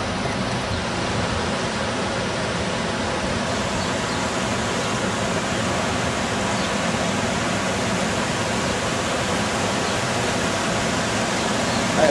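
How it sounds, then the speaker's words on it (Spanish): Water rushing out at Lagunas de Ruidera in March, a steady broadband roar of flowing water that stays constant and fairly loud throughout, with no voices. "Estará hará años que no sale el agua por aquí, por este lado, ¿no?"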